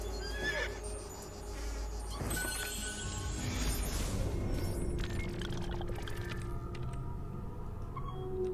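A horse in the video game Assassin's Creed II neighs and whinnies amid clip-clopping hooves and busy, faint game ambience, with no talk over it.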